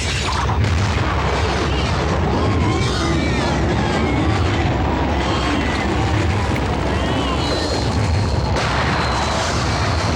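A landmine blast in an action film scene sounds as a loud, sustained rumbling boom with dense low-end roar that fills the whole stretch, with speech faintly mixed in.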